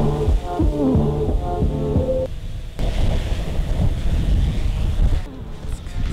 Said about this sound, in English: It's kind of too windy to do testing today.